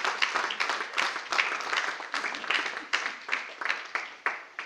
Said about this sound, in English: can you give them a clap offering? A clap for them, for their effort.